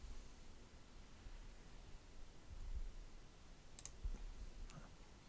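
A computer mouse clicks faintly while working in Blender, with a couple of soft, separate taps heard over a quiet hiss.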